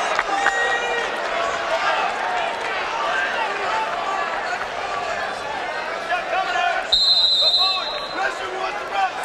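A wrestling crowd at a New York State finals match roars steadily throughout, a loud sustained din with commentators talking over it.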